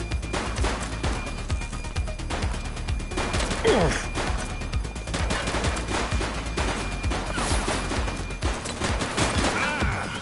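Gunfire from a suspect in the police video game The Precinct, dense bursts of shots and impacts running throughout over a loud layer of game music and effects, with brief radio-style speech mixed in.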